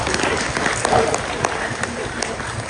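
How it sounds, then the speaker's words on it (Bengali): An audience applauds its teachers in a sustained round of clapping with crowd murmur mixed in, tapering slightly toward the end. "আমরা এবারে আমাদের ভালোবাসা প্রকাশ করবো একটি করতালি দিয়ে আমাদের মহান শিক্ষকদের"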